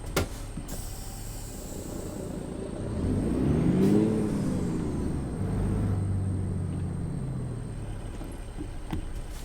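A truck engine in American Truck Simulator runs steadily for the whole stretch, its revs climbing and then easing back. A whine rises and falls over a constant high electronic tone, with no talking.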